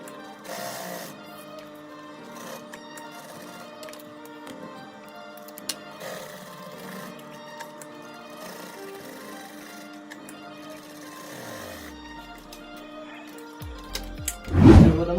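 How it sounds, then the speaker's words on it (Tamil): A sewing machine stitches thick footwear material in a handmade shoe workshop, giving a steady mechanical clatter and whir, with a louder thump near the end. "இந்த மிஷின்ஸ் வந்து ஈஸியாக வந்து ஸ்டிச் பண்ணிட்டு போயிட்டு இருக்கு"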